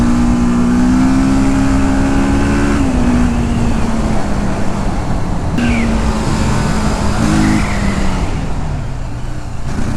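A close TVS Apache RTR 310 motorcycle engine revving high toward its top end and holding a loud, steady drone, with pitch shifts as the revs change.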